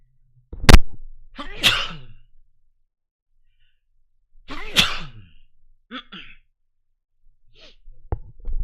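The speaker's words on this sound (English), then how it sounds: "I have to sneeze." A few loud, sharp sneezes separated by quiet pauses, with a short breath between them and no talking.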